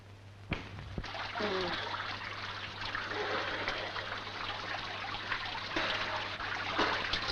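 Water runs steadily from a turned-on shower tap, a continuous splashing hiss with a low constant hum beneath and a few sharp knocks; a voice speaks over it faintly.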